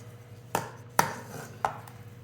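Backing film being peeled off an RGT scale skin: three sharp, separate crackling snaps spaced apart against a quiet background with a faint low hum.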